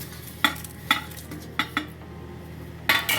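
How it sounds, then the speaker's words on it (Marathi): Cumin, black pepper and cardamom dry roasting in a pan for a homemade Vidarbha-style spice masala, stirred with a utensil that scrapes the pan in a few sharp, separate strokes over a faint background hiss. "सगळं भाजून घेते छान."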